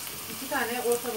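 Two chopped medium onions sizzle softly in oil beside eggplant in a pan, a faint brief frying hiss with light stirring.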